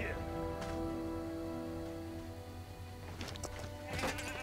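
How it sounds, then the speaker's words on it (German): A goat bleats in the LEGO Worlds video game, with game music and drones running steadily underneath and no talk over it. "Jetzt läuft uns hier die Ziege wieder hinterher."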